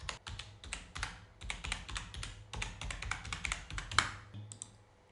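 Rapid, steady keystrokes on a computer keyboard while a Facebook web address is typed in, a close, continuous run of clicky taps that stops just before the end.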